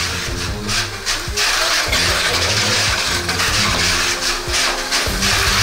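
A mini 4WD toy car with a low-speed motor runs on a track, giving a loud, buzzing whir broken by irregular rattles and clacks as it laps, with no voices over it.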